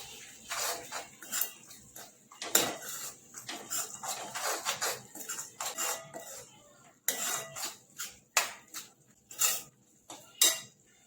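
Soya chunk curry gravy spiced with chilli powder, garam masala and biryani masala being stirred in a pan, with repeated close scraping and clinking of a spoon against metal in uneven bursts, no talking.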